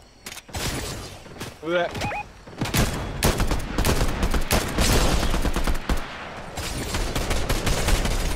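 Rapid Fortnite gunfire rattles in dense bursts of sharp cracks, loud and close, with brief gaps between volleys while a player talks over it.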